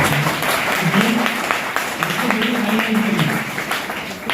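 A crowd at a training seminar claps enthusiastically, a dense wash of applause filling the room, with a voice speaking faintly underneath at intervals.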